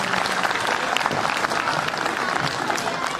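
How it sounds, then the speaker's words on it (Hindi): Steady, dense applause from a crowd at a school annual day celebration, a continuous clapping wash with faint voices mixed in. "तालियां हो जाए सर के लिए।"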